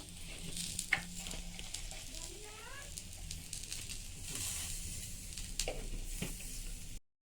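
Eggplant seasoned with salt and turmeric fries in a pan with a quiet, continuous sizzle and occasional soft spatula taps, plus a brief faint squeak midway.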